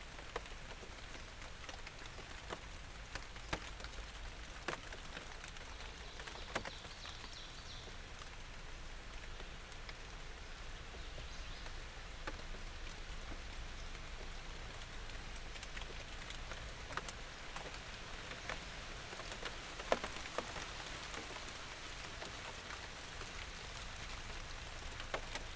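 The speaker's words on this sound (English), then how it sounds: "It's actually raining harder than you think it would be." Rain falls steadily in an even, soft patter of drops on surfaces, faint but continuous for the whole stretch, with no voices.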